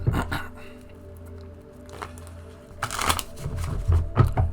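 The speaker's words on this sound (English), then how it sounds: "I'm just going to shuffle these cards so we get the energy." Tarot cards being shuffled by hand, with soft riffling bursts and flicks that come and go over a few seconds, close and fairly loud, while a voice speaks intermittently.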